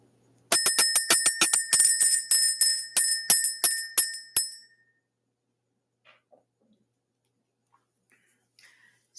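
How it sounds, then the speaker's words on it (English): A small metal bell is rung in a quick, rhythmic series of about a dozen bright, ringing strikes for clearing energy. The tones are close and loud, then stop abruptly, leaving near silence. "We're going to ring this bell."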